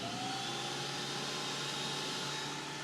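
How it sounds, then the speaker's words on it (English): A Cutech 40800H woodworking planer runs at high speed, a steady loud whining hum with a faint rising tone, no cutting strikes and no talk. "So let's turn it on, go to high speed, and see how it does."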